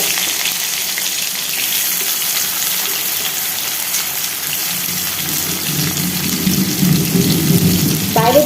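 Onion and garlic fry in a pan, giving a continuous close sizzle that grows fuller and louder toward the end, with no talking heard.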